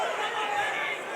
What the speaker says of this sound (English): I'm sure you can hear through the microphone effects, the crowd shouting